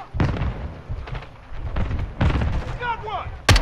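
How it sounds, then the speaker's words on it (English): Grenade explosions and gunfire in the video game Call of Duty: Modern Warfare II, a loud chaotic burst of booms and cracks in quick succession with shouted voices over the combat. "They're launching grenades!"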